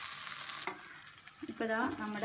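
Drumstick (muringa) pieces fry in hot oil with a soft, steady sizzle heard up close, while someone speaks over the crackle.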